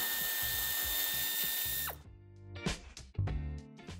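A power tool whirs steadily while removing screws from the rear bumper of a 2018–2025 Suzuki Jimny, then stops, followed by short bursts of tool and clattering mechanism sounds.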